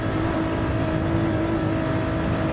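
A Ford GT race car engine in a sim racing game drones steadily and loudly at a near-constant pitch, a sustained mechanical whine and hum held without a break.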